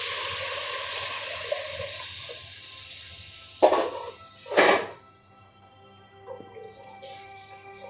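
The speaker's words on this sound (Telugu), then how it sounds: "నేను ఇప్పుడు వాటర్ తీసుకుని పోసుకుంటాను అండి." Water is poured into a cooking pot while making paneer dum biryani, a steady close gush that fades, followed by a couple of short louder pours and quieter trickles.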